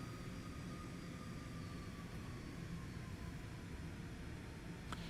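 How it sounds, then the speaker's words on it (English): Aircraft engine during departure in the X-Plane 12 flight simulator game: a steady, dense roar with a faint whine, unchanging throughout with no talk. "you have got to listen to the sounds of this aircraft as we depart"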